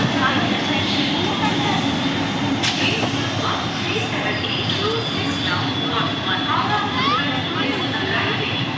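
A passenger train rides from Pandua toward Chinsurah, its steady rumble and rattle running continuously at moderate level, with a brief sharp metallic click partway through.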